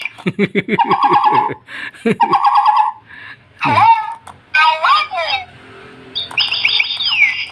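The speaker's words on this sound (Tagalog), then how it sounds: "Meron daw siyang alagang ibon eh." A pet talking bird chirps and squawks up close, loud bursts of tweets and whistled calls separated by short pauses, ending with a higher warbling call.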